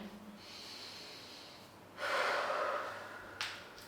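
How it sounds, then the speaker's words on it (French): Deep breathing during a full-body flexibility stretching routine: a long nasal inhale, then a stronger, forceful exhale with a short sharp breath at the end, close and clear. "là il y a des bonnes respirations"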